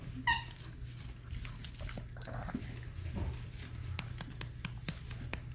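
Puppies at Croft Kennels yip with a brief high squeak near the start, then scamper and patter softly over steady low room hum, with faint scattered clicks throughout.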